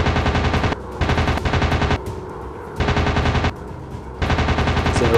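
Machine gun fire from a WW2 warplane in an air combat game: four loud sustained bursts of rapid automatic shots, separated by brief pauses filled with engine drone.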